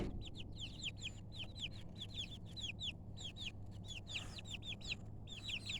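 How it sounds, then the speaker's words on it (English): Chickens cluck and chirp in a rapid, repeated series, fairly close, over a steady low hum at a small home flock. "Starting a little chicken farm."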